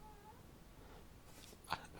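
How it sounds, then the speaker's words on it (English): A pet cat makes a quiet, faint vocal sound, a soft meow or yawn, with one short burst near the end of a low, steady indoor background. "Sorry, this is my cat."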